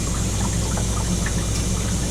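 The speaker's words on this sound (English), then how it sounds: "Water's passing through. It's gonna flush. It's gonna fill up." A Hoshizaki ice maker flushes and fills with water, giving a steady rushing, gurgling flow over a constant mechanical hum, close and even throughout.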